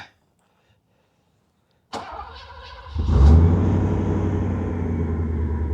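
A Mercedes 420SEL engine cranks with the starter and catches, then settles into a steady, deep idle rumble close by, with no talking.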